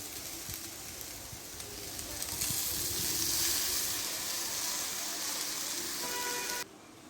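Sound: puffed rice (murmure) being added to a hot wok

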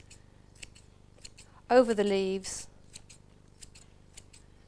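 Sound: scissors snipping anchovies over salad leaves

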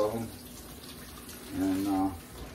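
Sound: cold tap water running over peppers

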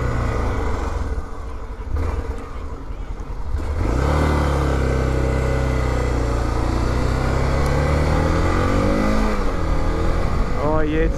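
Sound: riding a motorcycle, engine running

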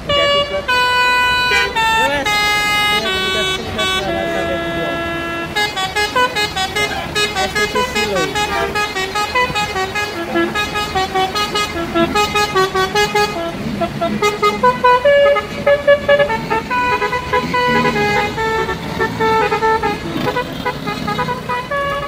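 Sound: tour bus driving past with horn honking

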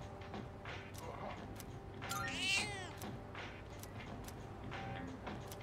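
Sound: cat purring in Persona 3 Reload video game

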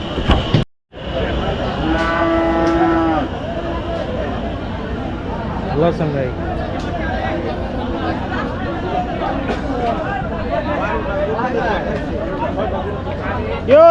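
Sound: cattle mooing at a bull market

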